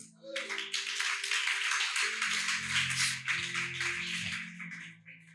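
Congregation clapping to acclaim the Lord at a French-speaking church service: sustained, dense applause from a crowd, loud and continuous throughout, with a low voice or music underneath in the second half.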